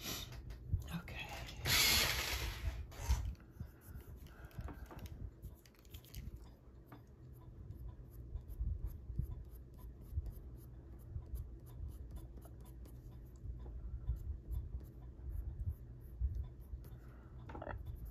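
Soft scratchy strokes of colored pencil or marker on a greyscale coloring page, a quiet irregular rasping with a brief louder rustle near the start.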